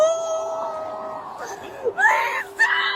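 A woman screams and wails during a police arrest, her high strained cries rising in bursts over ongoing voices and a steady electronic tone.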